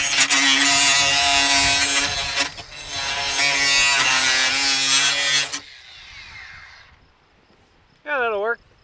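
A DeWalt power tool grinds or saws loudly through material at a car crash test, heavy continuous cutting noise with a brief dip, then fading out before a short burst of a high whine.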